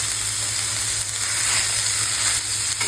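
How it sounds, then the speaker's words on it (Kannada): Chopped vegetables with garlic sizzle steadily in a pan over low to medium flame for veg momo filling, a continuous close frying hiss with faint stirring near the end. "ಕಡಿಮೆ ಉರಿಯಲ್ಲಿ ಇಟ್ಕೊಂಡಿದೆ ಚೆನ್ನಾಗಿ ಫ್ರೈ ಮಾಡ್ಕೊಳ್ಳಿ"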